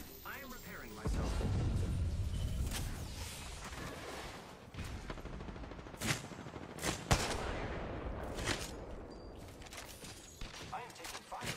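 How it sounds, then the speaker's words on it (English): Gunfire in the video game Apex Legends, bursts of rapid shots and single sharp cracks spread through the clip, with a rumbling stretch early on, loud and close. "I am taking fire."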